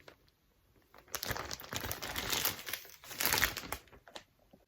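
Crisp plastic zip-lock bag crinkling in two handled bursts, close and fairly loud, with quiet pauses around them.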